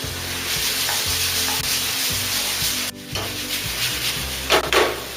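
Paneer chili with sesame, oregano and salt is stir-fried in a pan, with steady sizzling and repeated scraping strokes of a spatula, close and loud.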